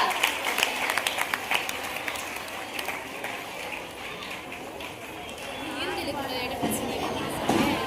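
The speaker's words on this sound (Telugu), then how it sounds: "క్లాప్స్ లేవా?" Applause at a farewell party at a girls' high school in Markapur, a dense, steady patter of many hands clapping for the whole stretch, with voices talking over it.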